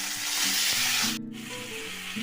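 Tomato pieces hitting hot oil in a home kitchen pan set off a loud, steady sizzle with a brief louder spitting burst partway through, then a slightly softer frying hiss. No one speaks.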